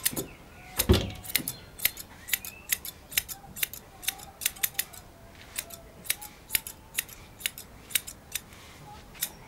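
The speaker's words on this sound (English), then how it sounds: "trimming down smoothly all the loose ends that stick out." Steady run of crisp metal scissor snips trimming loose ends of a dog's coat during grooming, close and fairly regular, one louder handling knock early on, no talking.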